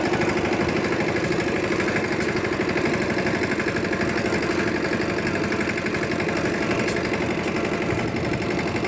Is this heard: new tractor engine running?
yes